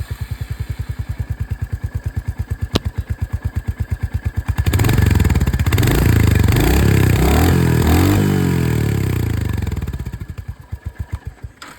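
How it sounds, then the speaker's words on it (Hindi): A Royal Enfield Hunter 350 single-cylinder exhaust thumps at a steady idle, then revs loudly for several seconds and settles back to idle, close and dominant with no talk. "तो ये दोस्तों हंटर 350 की आवाज़ आप लोगों ने सुनी है।"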